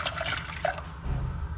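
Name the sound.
pouring ice water into pot for Kashmiri tea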